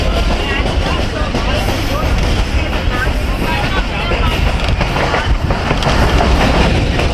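Millat Express passenger train running through Sargodha city, a loud, continuous rumble with rattling clatter and buffeting wind noise throughout.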